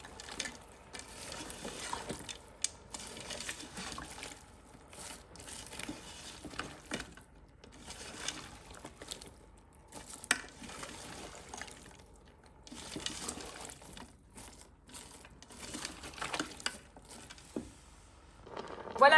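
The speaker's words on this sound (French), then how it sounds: "Je mélange le tout." Chicken tajine with raisins and a cinnamon stick is stirred in a Cookeo electric pressure-cooker pot, spoon scraping and clicking against the bowl in irregular bursts, with soft wet squelches and pauses between strokes.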